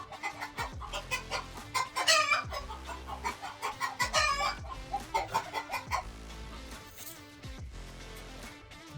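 Several chickens cluck and squawk close by in a lively, overlapping stream of calls, with louder bursts of agitated cackling rising and falling.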